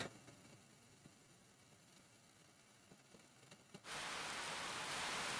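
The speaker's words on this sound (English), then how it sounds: "A gentle rain begins to fall." Gentle rain in the video game Fate/Extra: faint, sparse patter at first, then a sudden switch to a steady, full hiss of falling rain.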